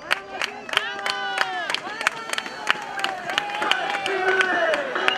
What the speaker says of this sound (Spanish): fuerte el aplauso a estos chicos